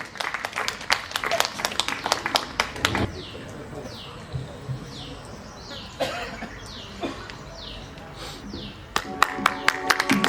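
Audience clapping at a Murthal Mahotsav cultural program on stage, with bursts of hand claps at the start and end over a background of crowd murmur and faint bird chirps.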